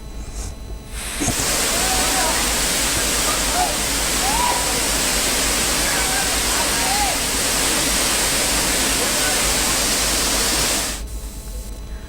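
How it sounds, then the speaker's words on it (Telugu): A waterfall in the Nallamala forest, near the Chinna Gummitam temple, roars as a loud, dense, unbroken rush that swells up after the first second and drops away near the end. "నల్లమల చిన్న గుమ్మితం ఆలయానికి సమీపంలో ఉన్న జలపాతం పర్యాటకులను మంత్రముగ్ధులను చేస్తోంది"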